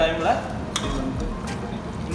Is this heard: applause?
no